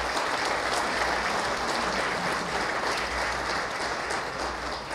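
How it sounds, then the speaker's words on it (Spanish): Steady crowd applause at the opening of a regional transparency colloquium in Mexico, a dense, even wash of clapping with a low hum beneath it. "Un aplauso, por favor."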